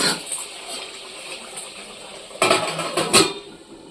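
A metal lid clatters down onto a cooking pot of simmering khichuri with potatoes and a little added water, two short clanks ringing close over a soft bubbling background.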